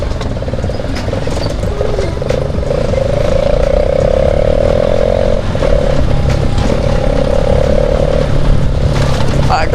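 A motorcycle being ridden through a rough Dhangadhi market road, its exhaust a loud, steady droning hum with a sustained engine tone and road rumble throughout.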